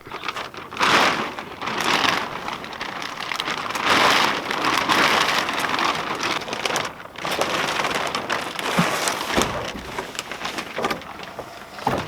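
Steady rain patters and crinkles on a plastic sheet stretched over a hunting hide, a continuous dense hiss with occasional sharper crackles and no voices.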